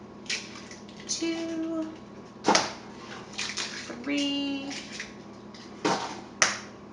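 Eggs are cracked into chocolate cake batter made with instant chocolate pudding mix. A few sharp, brief cracks and wet clicks sound close by while a voice counts along.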